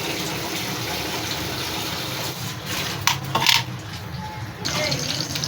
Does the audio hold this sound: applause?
no